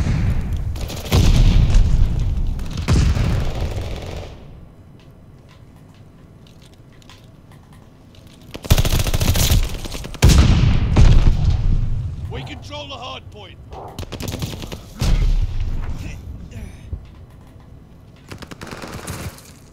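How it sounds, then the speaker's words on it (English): Grenade blasts and bursts of gunfire in a ranked Hardpoint match of Call of Duty: Vanguard, with several loud, booming explosions arriving in clusters and quieter gaps between them, and rapid shots mixed in. "Oh my god, nades everywhere!"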